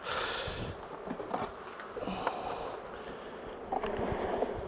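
Honeybees buzz around hive frames being added to a colony, a steady close droning hum with soft rustling and a few brief louder swells, no voices.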